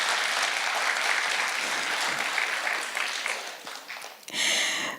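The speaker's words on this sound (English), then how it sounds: "So please give another round of applause to the Ministry of ICT." A conference audience applauds the Ministry of ICT with dense, steady clapping that holds at full strength, tapers near the end, then gives way to a brief burst of another sound.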